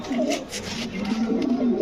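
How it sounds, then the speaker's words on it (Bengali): King pigeons coo close by in a steady, throaty stream of rolling calls, with soft background noise. "যেহেতু রাশেদ ভাই বলছে আমি কিন্তু দেখাই দিচ্ছি আপনাদের সুস্থ সবল কবুতর"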